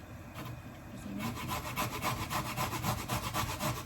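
Steady rhythmic rasping as something is rubbed back and forth over a grater, close and continuous, quickening after a quieter start.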